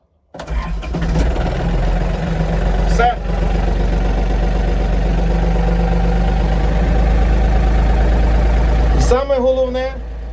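An Iseki TA 227 cab tractor starts almost instantly and settles into a loud, steady diesel idle, with a brief surge midway and a clunk near the end.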